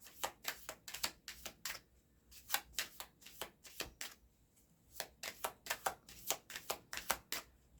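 Tarot cards shuffled by hand for a reading: quick bursts of riffling, flicking card noise in a loose repeating rhythm with brief pauses between rounds, close and fairly quiet, no voices.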